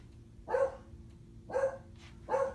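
A dog indoors lets out three separate barks at roughly one-second intervals, clear and moderately close over a low, quiet room hum.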